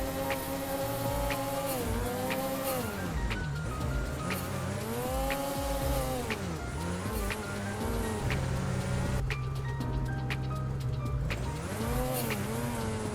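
A snowmobile engine revs hard and steadily on the throttle while sidehilling, its pitch swooping up and down through repeated throttle changes, loud and close throughout with no pauses.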